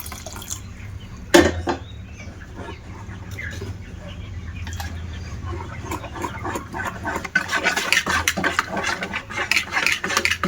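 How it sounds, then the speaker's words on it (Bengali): Water trickles steadily into rice-flour pancake batter for patishapta pitha. A sharp knock sounds near the start, and the pouring grows louder and busier toward the end. "আর একটু জল দিয়ে দেব"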